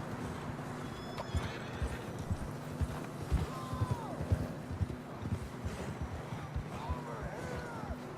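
Horse hooves clop rhythmically at a steady pace in Red Dead Redemption 2 while horses whinny now and then, with faint voices in the background.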